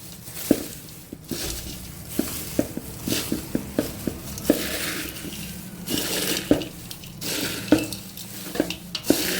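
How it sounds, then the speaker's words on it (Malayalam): A fried mixture snack is tossed and mixed by hand in a pan, giving repeated soft rustling scrapes and crunchy clinks in an uneven rhythm, close and moderately loud, with no talking. "ഇത് മിക്സറായി ഇനി ഇതിനെ നല്ലവണ്ണം ഒന്ന് മിക്സ് ചെയ്യണം"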